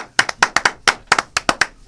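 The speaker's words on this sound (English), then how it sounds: "Let's give her one more round of applause." Sharp, close hand claps ring out in a quick irregular rhythm as an audience applauds a woman entering a room, about a dozen distinct claps with no talking.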